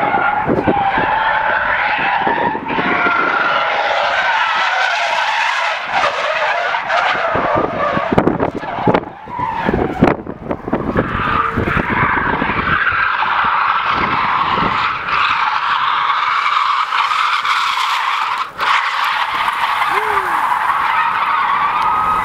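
Cars drifting with loud, sustained tire skidding and squealing, engines roaring nearby in a continuous wash of screeching that swells and dips across the whole stretch.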